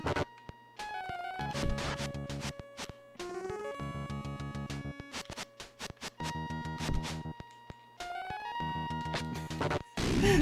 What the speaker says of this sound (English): This exciting fight music.